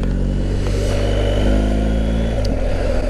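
Motorcycle fitted with a new Remus Hawk aftermarket exhaust pulling away on a first ride, a loud close engine drone that rises in pitch through the gears and stays steady throughout.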